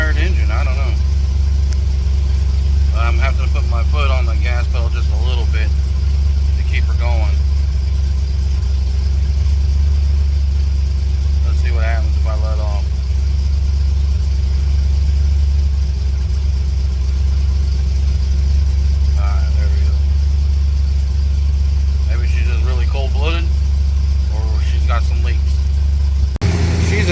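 A 1956 Ford car engine idles with a steady, low rumbling drone that runs unbroken from start to finish, while someone talks intermittently over it.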